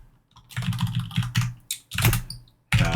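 Fast bursts of keystrokes clatter on a computer keyboard, entering a short word in three quick clusters with brief pauses between them, close and clear with no voices.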